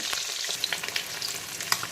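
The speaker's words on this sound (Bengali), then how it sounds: "মাছের একটা দিক প্রথমে খুব ভালো করে ভেজে নেব" Topse fish frying in hot oil, one side cooked first, crackling steadily close up with scattered sharp pops and spits throughout.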